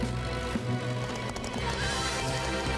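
Cartoon horses gallop in a French children's animated series, a steady rapid clip-clop of hooves with a whinny, all under continuous background music and effects.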